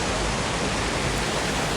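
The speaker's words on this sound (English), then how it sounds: "Let your tree find you the nearest, most magnificent waterfall." Constant thundering rush of a large waterfall, a broad hiss of falling water that stays loud and even from start to finish, with nothing else heard.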